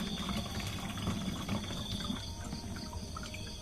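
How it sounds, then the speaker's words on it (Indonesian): Water poured from a container into another vessel while making homemade amino acid plant fertilizer, a steady, faint trickling splash throughout. "Oke, dituangin ke sini. Kita hanya mengambil airnya saja."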